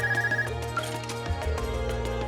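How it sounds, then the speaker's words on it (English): A telephone rings repeatedly in the video game Trails of Cold Steel, a bright, steady electronic ringtone over background game music, with no talking. "Whoa, it's the phone."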